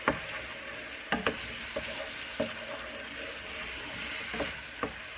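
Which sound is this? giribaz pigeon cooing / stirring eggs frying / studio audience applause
stirring eggs frying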